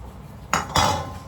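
Poha is stirred in a cooking pan, giving two short metallic scraping clinks of a utensil against the pan, close and moderately loud, with no talking.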